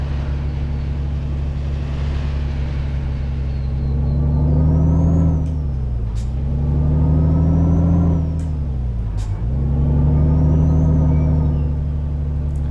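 A Volvo FH 2013 truck engine in Euro Truck Simulator 2 drones steadily and loud, rising and falling through several gear changes as the truck drives through Finland.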